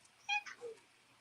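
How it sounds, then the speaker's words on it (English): A 15-year-old pet cat weighing about 8.5 pounds gives a short, quiet meow followed by a softer lower chirp, close by in an otherwise quiet room. "now my cat has joined the stream"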